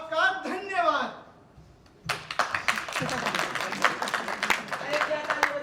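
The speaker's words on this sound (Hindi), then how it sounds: "अरे क्या ताली बजा रहे हो?" Scattered clapping from the audience at a Hindi stage play, a burst of uneven hand claps following a man's spoken announcement, moderately close and fairly brief.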